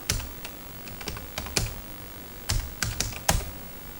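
Quick clattering keystrokes on a computer keyboard come in short uneven clusters with brief pauses, close and clear with no voices.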